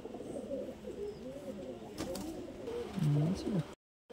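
Close pigeon cooing, low throaty rolls that swell louder near the end, with a voice faintly mixed in before a sudden cut to silence.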